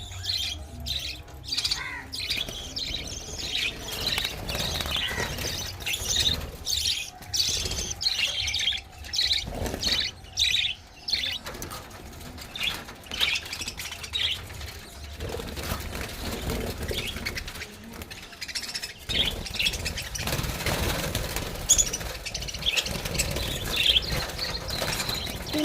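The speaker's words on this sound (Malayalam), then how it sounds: "എൻ്റെ വീട്ടിൽ കുറച്ച് ലവ് ബേർഡ്സ് ഉണ്ട്, അതിനെയാണ് കാണിക്കുന്നത്" Pet lovebirds kept in cages chatter continuously with dense chirps, tweets and squawks from many birds at close range, punctuated by occasional wing flutters, with no talking.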